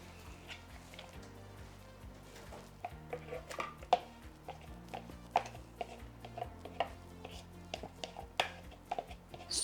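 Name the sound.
whisking batter for Swedish potato pancakes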